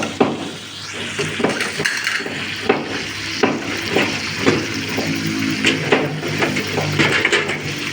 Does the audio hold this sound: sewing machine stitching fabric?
no